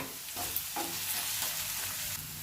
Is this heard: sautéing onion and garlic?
yes